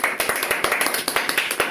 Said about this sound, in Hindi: तो ये कविता अगर अच्छी लगी है तो एक बार अच्छे से ताली बजा दो।